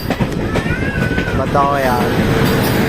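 A passenger train overtakes a Jan Shatabdi Express, its rumbling wheels and rattling coaches loud and near while a voice speaks briefly over the noise.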